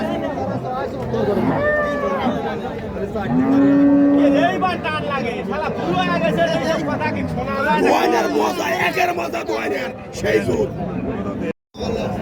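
Cattle moo loudly at a livestock market, with drawn-out low calls rising above a busy crowd chattering nearby.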